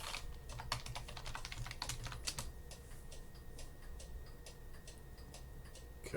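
Fingers type on a computer keyboard to sign in, making a quick run of soft, close key taps that thin out into scattered single clicks over a low, steady room hum.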